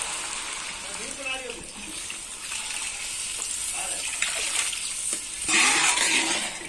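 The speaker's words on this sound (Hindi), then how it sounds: "इसमें हम पानी डालेंगे" Water is poured into cooking khichdi masala in a pan, a gushing, sizzling pour that builds and surges near the end, with a person talking over it.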